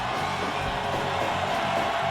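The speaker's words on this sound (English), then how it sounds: "Listen to that crowd." A wrestling crowd in Fire Pro Wrestling World roars and cheers continuously, a dense steady wash of arena noise with faint talk underneath.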